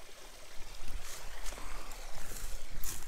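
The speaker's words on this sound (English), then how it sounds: "Cool creek." A creek flows nearby, a soft steady trickle and gurgle of water with a few light splashes, fairly quiet and with no one talking.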